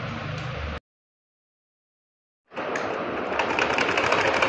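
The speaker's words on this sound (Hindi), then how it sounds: "सुबह जल्दी जल्दी अब सिलाई मार रही हूँ" A home sewing machine stitches a suit in fast, steady whirring bursts: a short run, a pause of near silence, then another continuous run close by.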